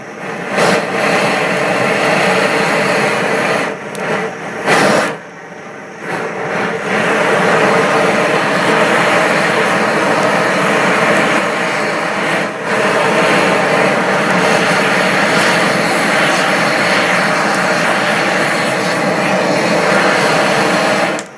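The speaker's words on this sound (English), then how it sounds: "So this is my torch. It's attached to a propane tank." A propane torch fed from a tank roars loudly and steadily while lighting a fire, with a brief gap early on before the continuous rushing blast resumes and holds to the end.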